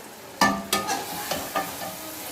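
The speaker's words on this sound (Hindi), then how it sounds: "ये देखें, अब मैं भिंडी डाल रही हूँ" Okra tipped into frying masala sets off a sizzle, with several sharp stirring scrapes at an uneven rhythm over a steady crackle, close and moderately loud.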